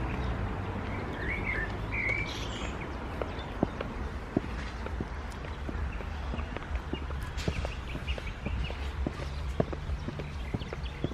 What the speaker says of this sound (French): Ici on n'entend plus que les oiseaux.